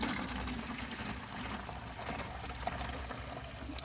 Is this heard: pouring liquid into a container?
yes